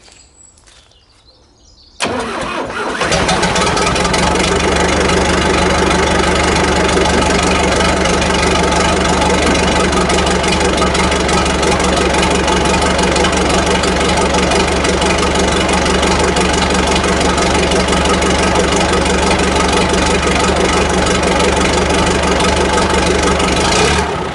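An old tractor, long parked by a hedge, is cranked over and catches. After a brief quiet start its engine settles into a loud, steady, rumbling idle that runs unbroken to the end.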